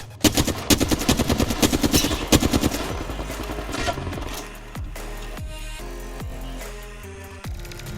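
Rapid automatic gunfire rattles in the Apex Legends shooter, fast crisp bursts packed together at first, then thinning into scattered shots over a steady game backdrop.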